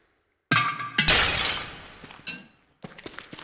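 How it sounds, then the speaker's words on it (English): Clay jars being smashed in the video game Don't Starve Hamlet: a sudden loud crash with shattering debris that rings out, followed by a second, quieter burst of breaking clatter. "With any luck, we'll find something decent in these jars when we smash them"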